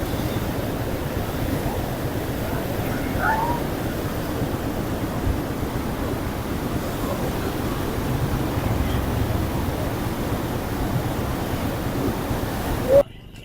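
Water of the Sutlej River surges at Head Sulemanki, a continuous broad roar with wind buffeting the microphone and faint voices in the background.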